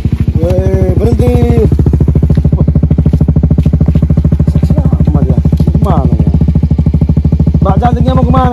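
A motorcycle engine idles steadily and close by with a dense, even pulse throughout, while people talk over it in intermittent voices.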